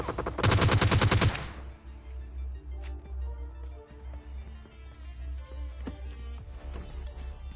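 Gunfire in the battle royale game PUBG Lite, with a loud rapid burst of automatic shots near the start, then scattered fainter shots and clicks over quiet in-game ambience.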